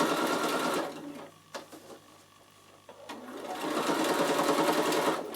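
A Bernina sewing machine stitches a half moon bag, its motor humming in two close, steady runs separated by a brief pause with light handling noise.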